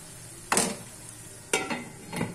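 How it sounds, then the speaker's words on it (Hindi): Onions cooking in a pan for a chicken karahi, with three bursts of stirring and sizzling about a second apart, close and fairly quiet, set against a low steady background hiss. "अब प्याजों को नरम होने तक हम पकाएंगे"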